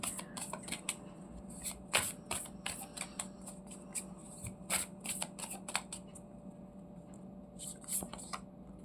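Oracle cards shuffled for a Hindi-Urdu tarot reading, with a rapid run of crisp riffling bursts and flicks close up, uneven in rhythm, over a soft steady background hum.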